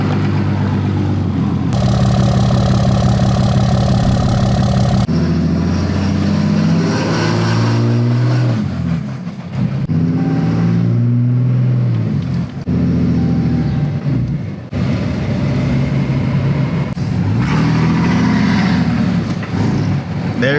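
Diesel truck engine rumbling loudly up close as the long-parked truck is pulled out, idling and revving with shifting pitch, brief faint voices underneath.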